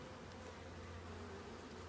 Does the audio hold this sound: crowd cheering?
no